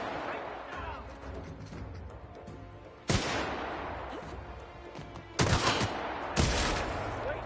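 Prisoners open fire with guns in a sci-fi shooter video game, with three loud sustained bursts of rapid gunfire cutting in over a busier background of game sounds and a voice.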